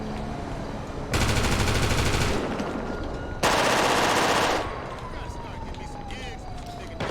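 Rapid bursts of Uzi submachine gun fire in a video game ring out in two sustained volleys, loud and close, with quieter game ambience and a rising tone between them.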